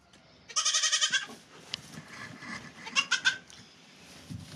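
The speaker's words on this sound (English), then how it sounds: "these two little goats don't like being in their stall all by themselves" Two small young goats bleat loudly in a barn stall, a burst of strained, harmonic cries followed by a second round a moment later, close by over faint barn noise.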